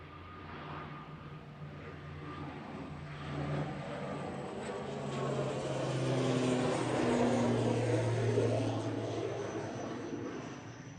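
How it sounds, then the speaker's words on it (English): Aer Lingus Regional ATR 72-600 turboprop departing Manchester Airport, a moderate droning propeller hum with a steady tonal whine that swells and fades slowly, heard from a distance. "Aer Lingus Regional. Heading out to Dublin, EIGZV. 10-year-old ATR 72-600"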